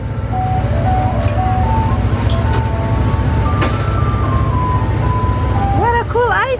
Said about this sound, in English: What a cool ice cream truck.